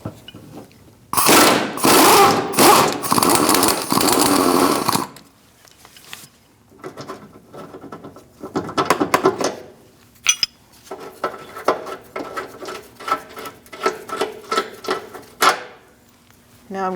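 Metal clanks and ratcheting bursts from a 19mm long socket with a swivel loosening a rear control arm bolt on a 2002-2006 Toyota Camry, loud clattering spells broken by quieter pauses, with a voice talking at times.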